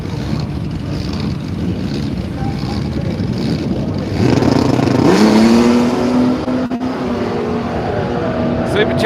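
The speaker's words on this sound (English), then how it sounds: "Supercharged 6-cylinder in the hot rod. It's going to go through in the left lane" A supercharged six-cylinder hot rod at a radial drag race at Willowbank, Australia, its engine rising in pitch and roaring louder midway through, set against constant crowd and track noise.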